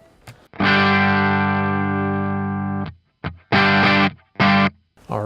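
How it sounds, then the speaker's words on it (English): Electric guitar played through a distortion effects pedal: a long sustained, heavily saturated chord rings for about two seconds, followed by several shorter distorted chord stabs with brief silent gaps between them. "Oh, my guitar's making noises."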